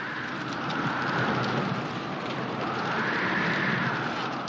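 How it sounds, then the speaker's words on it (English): Heavy rain pours steadily during a thunderstorm in a Western drama, a dense continuous wash of noise with low rumbling thunder rolling underneath and no voices. "Wish this storm would break and have done with it."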